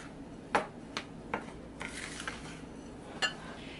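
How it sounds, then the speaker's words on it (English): Spoon stirring chocolate chip cookie dough with milk and butter in a bowl, several sharp clinks and scrapes against the bowl at irregular intervals, close and fairly quiet over a soft background. "Just kind of stir this up a little bit."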